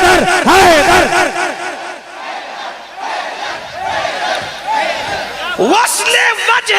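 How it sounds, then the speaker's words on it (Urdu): A large crowd at a religious gathering in Juhapura shouts the slogans "Haidar, Haidar" in loud, rhythmic unison, repeated bursts of massed voices rising and falling close by, with a final surge of shouting near the end. "نعرے تکبیر، نعرے رسالت، نعرے حیدری، حیدر حیدر حیدر"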